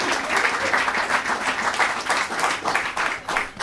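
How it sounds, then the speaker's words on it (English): A comedy club audience claps and cheers in a dense, lively burst of applause that surges in waves, close and loud throughout. "Please start clapping. Give me all the noise and energy you got for Justo!"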